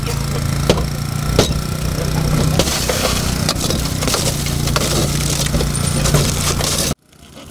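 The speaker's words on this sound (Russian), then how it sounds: "Спасатели разбирали машину на части." Rescuers dismantle a car during a crash-rescue drill with heavy equipment: loud, continuous grinding and crunching of metal with sharp cracks and a running engine underneath, cutting off abruptly near the end.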